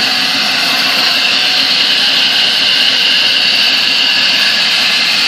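A 1948 AMT table saw motor runs smoothly, giving a loud, continuous whine with a steady airy hum and no rattle, unbroken from start to finish.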